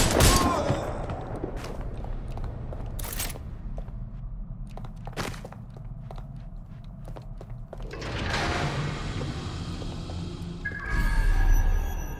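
Gunfire in the Watch Dogs video game, with several sharp, loud shots spaced out across the scene, mixed with thuds and footsteps, then swelling background noise toward the end.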